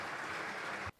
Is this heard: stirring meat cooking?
no